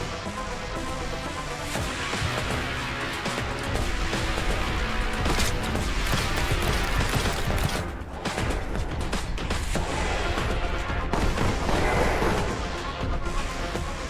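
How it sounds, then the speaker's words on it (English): Dense, continuous gunfire from the video game Warhammer 40,000: Boltgun, including heavy bolter fire, with booming blasts filling the whole stretch, a loud chaotic barrage with no pauses. "I'm hearing gunshots"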